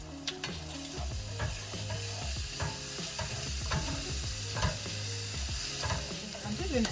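Sauces and Maggi seasoning stirred into spaghetti frying in a pan: a steady close sizzle with repeated scraping, clattering stir strokes throughout, no voices.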